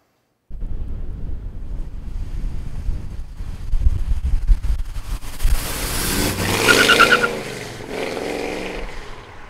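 A 1972 Chevrolet Chevelle with a 502 engine driving, a loud rumbling engine building as it goes through the gears, with heavy wind buffeting over the recording.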